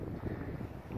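Heavy, continuous low rumble of wind buffeting the microphone, steady throughout with no speech.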